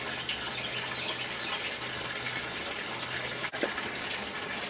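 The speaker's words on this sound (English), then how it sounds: "It's doing a little agitation there, but the water's still coming out." A washing machine set up outdoors on a pallet and fed by a garden hose fills with rushing water, a steady close hiss with a brief knock partway through as it begins agitating.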